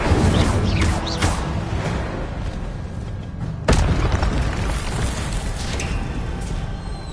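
Incendio fire spell in Hogwarts Legacy, a loud booming burst of flame with a roaring, crackling rush that flares twice amid continuous game noise, no talking.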